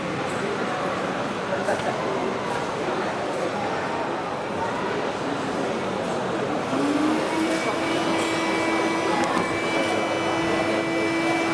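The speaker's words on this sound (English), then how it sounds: "Suction." A robot arm's suction gripper picks items during a stowing task, a steady loud vacuum-pump roar with a rising whine that settles into a sustained tone as suction engages, amid busy room noise.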